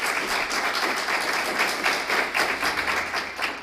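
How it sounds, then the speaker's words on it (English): Applause from the audience for the school district candidates at a forum, many hands clapping in a lively, slightly uneven patter with some louder individual claps standing out, steady for several seconds. "how about if the audience will give them an applause for even running"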